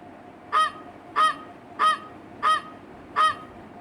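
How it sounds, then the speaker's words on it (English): Five loud, evenly spaced goose honks, each short and nasal, ringing out alone against a quiet background. "Goose."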